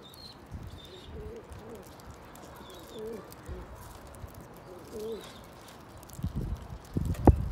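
Pigeons coo in soft, repeated phrases at a moderate distance, with faint rustling and some louder handling noises near the end.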